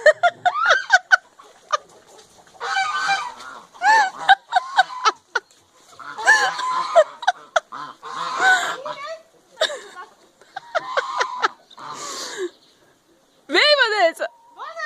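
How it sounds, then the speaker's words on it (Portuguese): Hens cluck and squawk and geese honk close by in busy bursts, with people talking and exclaiming among the birds. "Encurralada pelas galinhas e pelos gansos."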